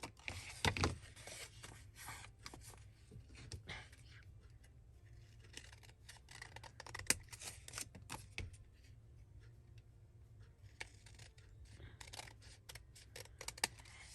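Scissors cut down a gift bag in a run of quiet, close snips and paper crinkles, scattered irregularly over a faint background with no talk.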